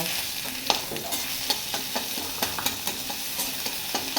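Ginger-garlic paste frying in a pan with spices, a steady close sizzle broken by repeated sharp scrapes and taps of a spatula stirring at an even pace, with no voices.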